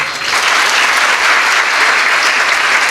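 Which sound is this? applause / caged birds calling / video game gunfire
applause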